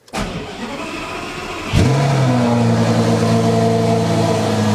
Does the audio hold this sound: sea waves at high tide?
no